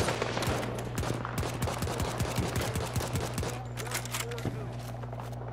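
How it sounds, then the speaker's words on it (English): Rapid bursts of gunfire from the video game Battlefield 2042, a steady crackle of repeated shots with a loud low thump under close talk from players. "Keep shooting him, buddy."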